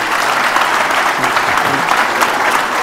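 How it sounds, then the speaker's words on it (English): An audience at an innovation awards event gives presenters a round of applause, steady, dense and close throughout. "maybe we could applaud them"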